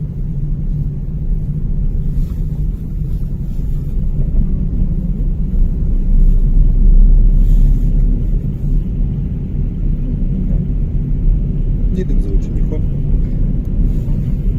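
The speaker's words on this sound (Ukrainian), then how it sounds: "тому ми собі спокійнесенько виїжджаємо на дорогу" A car on a driving exam route in Sofiivska Borshchahivka pulls out onto a snowy road, its low engine and road rumble steady inside the cabin beneath continuous talking.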